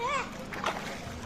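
Children splash water in a swimming pool in Bashundhara, with a few quick, close splashes under a voice that fades after the opening moment.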